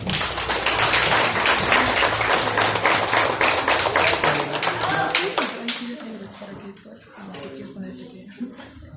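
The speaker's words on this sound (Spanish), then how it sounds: "reciban con un gran aplauso a Miguel Ángel Carvajal" A dense burst of audience applause greets a speaker at a developer talk event, loud and sustained for several seconds before tapering into fewer, scattered claps with a voice emerging near the end.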